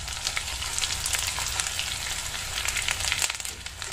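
Edible gum (gond) frying in hot ghee, a dense crackling sizzle that pops and bubbles continuously at close range, fairly loud and without voices.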